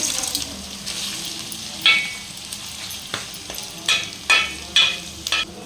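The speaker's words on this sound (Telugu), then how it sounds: "ఇప్పుడు ఇందులో చేప ముక్కలు వేసుకోవాలండి" Fish pieces frying with onion and ginger-garlic paste give a soft, low sizzle throughout. Several sharp clinks and scrapes of a utensil against the pan break through at irregular moments.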